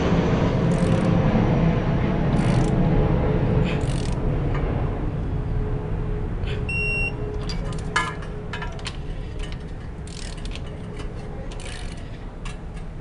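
Torque wrench clicking as spark plugs are tightened on a Chevrolet Corsa 1.0 MPFI: a few sharp mechanical clicks scattered through a steady broadband hum, with faint ticks later on.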